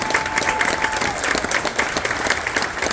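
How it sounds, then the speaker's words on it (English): A crowd at an outdoor veterans welcome event applauds in a dense, steady wash of clapping, loud and continuous for the whole stretch. "Let's give them that massive round of applause."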